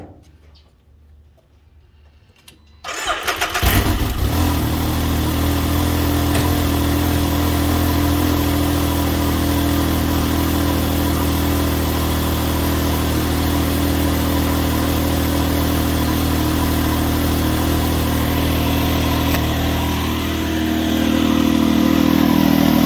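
A Can-Am X3 side-by-side engine starts after a few seconds of near quiet, then settles into a steady, loud, close idle that keeps running, with the revs rising slightly near the end.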